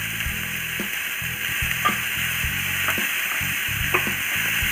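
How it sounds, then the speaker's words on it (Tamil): Vegetables sauté on a high flame with a steady close sizzle, broken by rhythmic scraping and tapping of a spatula against the pan. "ஆட் பண்ணி ஹை ஃப்ளேம் வச்சு ஒரு லைட்டாக வதக்கினா போதும்"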